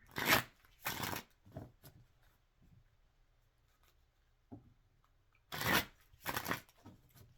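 Tarot cards being shuffled by hand in several separate bursts of riffling and sliding, with quiet pauses between the bursts and a few soft taps.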